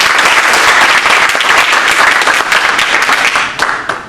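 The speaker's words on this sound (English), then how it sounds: "Would you please give them a nice warm round of applause?" A loud, dense round of audience applause fills a political forum hall, many hands clapping steadily for several seconds before tapering slightly at the end.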